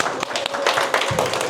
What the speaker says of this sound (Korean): 예, 박수 한번 보내주세요.